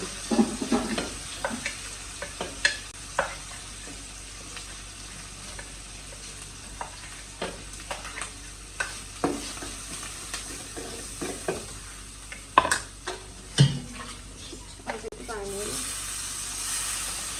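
Spice paste with onion and garlic frying in a pan, a steady sizzle under repeated sharp scraping strokes of a spoon stirring, with occasional brief voices nearby.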